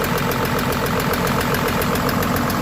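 A Volvo excavator's engine runs steadily after a swing motor oil seal replacement, a loud, continuous mid-pitched idle with a faint knocking vibration and no talk over it.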